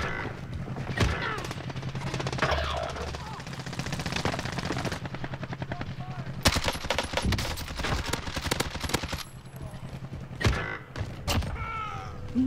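Rapid bursts of AMAX assault rifle fire in Call of Duty Warzone, with dense automatic volleys over a steady game backdrop and sharper, louder clusters of shots in the second half.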